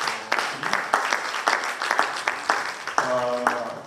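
An audience applauds after a presentation at a manufacturing incubation hub, the clapping steady and moderately loud with a rhythmic pulse, and a voice joins near the end.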